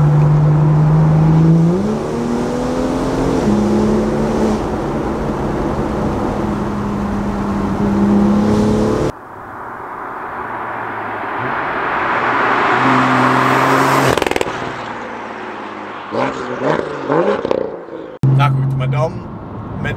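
A 400 hp BMW M2's exhaust revs and roars repeatedly, rising and falling in pitch, loud and close, with a brief pause and sharp blips near the end.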